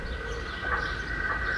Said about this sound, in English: Well, I'm pulling a train.